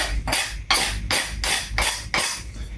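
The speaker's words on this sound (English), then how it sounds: "this is just a half round scraper, and all I'm going to do is use it to smooth out all these high spots all the way through" A half round scraper smoothing high spots, heard as five or six rhythmic rasping strokes of scraping, each a broad hissing sweep with brief gaps between, close and fairly loud with no talking.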